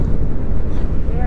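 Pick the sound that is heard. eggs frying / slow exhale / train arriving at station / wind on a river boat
wind on a river boat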